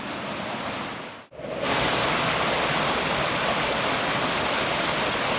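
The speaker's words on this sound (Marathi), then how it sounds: "धबधबा मित्रांनो" A loud, steady roar of falling water fills the air, broken only by a brief dip before surging back even stronger.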